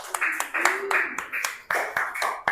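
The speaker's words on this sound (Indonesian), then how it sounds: "Kasih tepuk tangan untuk kelompok 1." A classroom of primary school pupils claps for a group of classmates, a short burst of loud, uneven, close hand claps with sharp individual slaps.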